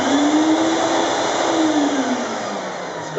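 A Jet Vac Ultima steam vacuum cleaner running in vacuum mode gives a loud, steady motor roar with a whining tone that rises slightly and then falls, continuous throughout and with no talking.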